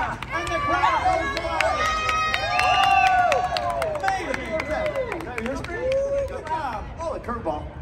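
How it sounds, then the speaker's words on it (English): An audience at a quiz game at the 2022 New York Auto Show cheers and claps loudly, a dense, sustained roar of voices and applause that rises and fades over several seconds with voices talking through it. "Oh, and the crowd goes wild."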